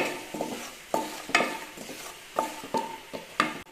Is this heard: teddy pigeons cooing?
no